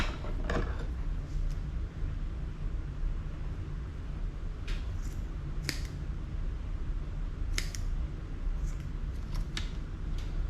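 Scissors snip through craft fur a few times at irregular intervals, short crisp cuts close by over a steady low background hum.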